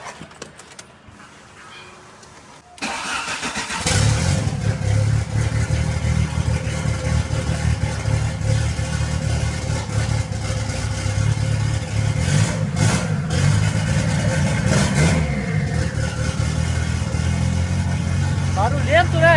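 A VW Gol Turbo car engine cranks and catches after a quiet start, then idles loudly and revs unevenly up close with a rough, rumbling tone, while people talk over it.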